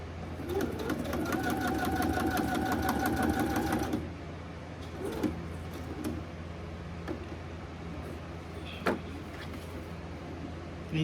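Sewing machine stitching through the pages of a handmade children's book, a fast, steady mechanical whir for about four seconds, then stopping, leaving a low room hum with a few small knocks and handling sounds.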